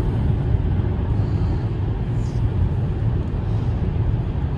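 Inside a 2015 Jeep Cherokee Limited cruising at 70 mph, a steady low road and engine rumble with wind hiss fills the cabin, constant and fairly loud throughout.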